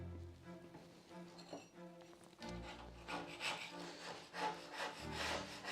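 A palette knife scrapes loose bits off an old wooden door being restored, giving close, rough rasping strokes that come in irregular bursts and grow louder and denser in the second half.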